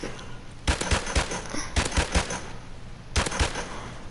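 Gunfire in several quick bursts of sharp, loud shots, with short pauses between the clusters, over a low outdoor background.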